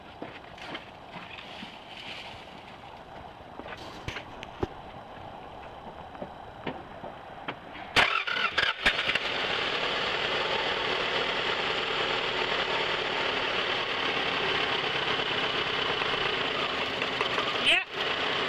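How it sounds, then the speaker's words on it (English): A 1997 Toyota RAV4 engine with a rough idle is cranked and starts, then runs steadily and loudly nearby with an uneven, broad mechanical drone; people talk faintly before the start. "Okay, try starting your vehicle up again."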